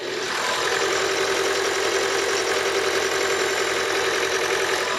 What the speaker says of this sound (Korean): 엔진 사운드 한번 들어보고 마무리하도록 할게요